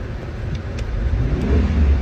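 A 2020 Subaru Ascent engine revs with a steady, rising mid-low roar over about two seconds, fairly close, with no voices.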